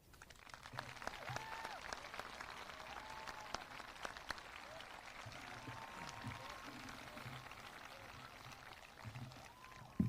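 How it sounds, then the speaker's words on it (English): Faint, steady applause from a graduation audience follows a valedictorian speech and carries on for about ten seconds, soft and distant, with low voices murmuring beneath the clapping. "another round of applause for Alexandra and Deepika"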